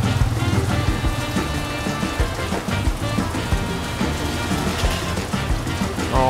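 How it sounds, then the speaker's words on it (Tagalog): Heavy rain pours steadily at a street food stall in Dipolog, a dense, loud, continuous patter with scattered heavier drops and no break. "Kita mo, sobrang lakas ng ulan."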